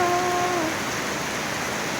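Diwali-season rain falls in a steady, even hiss that fills the whole stretch, with a faint tonal whine fading out near the start.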